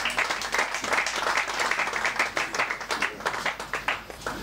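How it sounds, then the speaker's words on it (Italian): Sustained applause and clapping from an audience at a futsal awards event as the Latina Calcio 5 team is honoured, a dense steady patter of hands lasting throughout with a few louder individual claps near the front. "Un grosso applauso per il Latina Calcio 5"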